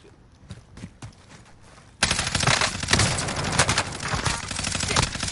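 Dense video-game gunfire erupts after a quieter stretch of scattered shots, sustained rapid bursts like automatic weapons and a fusillade, loud and continuous through the rest.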